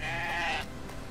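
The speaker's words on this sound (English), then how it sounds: "It's a sheep!" A sheep in the game Growhome gives a single short bleat, close and clear, lasting about half a second and then fading out.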